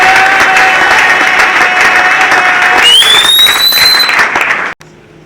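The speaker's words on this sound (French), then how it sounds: "que je demande de s'élever sur vos applaudissements" Loud audience applause at a church conference, dense clapping with a whistle rising through the crowd before it cuts off abruptly near the end.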